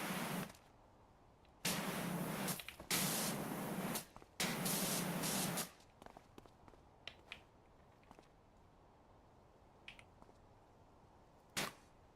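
Pressure washer spraying in Powerwash Simulator 2, heard as several loud hissing bursts of a second or so each, then scattered short clicks and faint spurts against quiet background.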